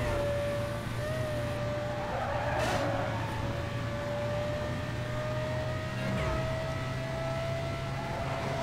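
Car drifting in Need for Speed Most Wanted, a sustained engine drone with long tire squeals sliding in pitch over it, game sound alone and fairly quiet, with a couple of sharper screeches midway.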